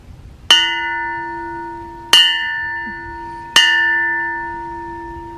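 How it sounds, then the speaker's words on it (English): An outdoor bell at a beach rental at Shell Point Beach, Crawfordville, Florida, is struck three times at steady intervals, each clear ringing strike decaying slowly before the next, loud and close with no talking. "There's the bell. I gotta ring it."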